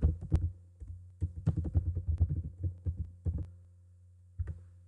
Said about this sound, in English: Now I am typing print command.